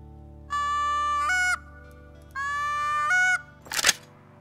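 Geese in the hunting video game Call of the Wild: two long, nasal honking calls in sequence, each about a second, loud and close over a low steady hum, followed by a short sharp clatter.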